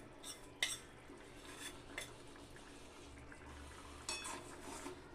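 A spoon clinks softly against a pan while crab curry is stirred after ground coriander paste is added. A few light metallic taps sound faint and close over a quiet background.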